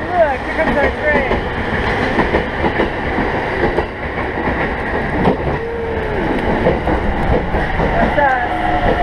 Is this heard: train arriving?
yes